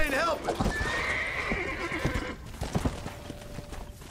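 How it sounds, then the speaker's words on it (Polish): Horses in a Red Dead Redemption game whinny loudly near the start, followed by hooves clopping and game ambience, with someone talking over the sounds. "Dużo tych koni jeszcze."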